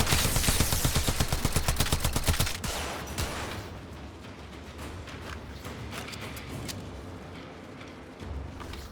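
A rifle fires in Warframe, a rapid rhythmic burst of close, loud shots for a few seconds that then gives way to quieter scattered game clatter and a final single report.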